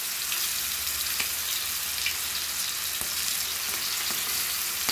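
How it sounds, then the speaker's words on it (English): Pony fish coated in masala sizzles and fries steadily on a hot tawa, a dense, continuous crackle with small pops, close and alone without talk. "So now let's fry this tawa fry"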